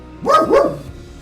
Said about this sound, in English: let's give him a minute to stop barking